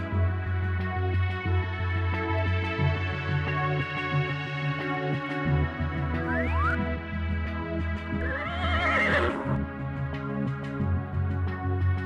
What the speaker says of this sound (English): Examine this horse and tell me about it.